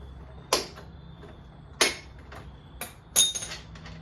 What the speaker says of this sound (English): to get the back wheel off, you just crack the nut loose